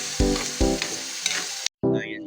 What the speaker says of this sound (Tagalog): At dinig nga dito ang pagka-juicy ng bawat prito nito.